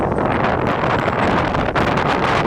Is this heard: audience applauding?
no